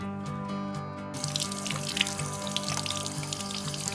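Tap water runs steadily into a sink while parts of a ResMed AirSense 11 CPAP machine are washed, with a constant rushing flow and small splashes and knocks throughout.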